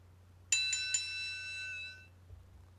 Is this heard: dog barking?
no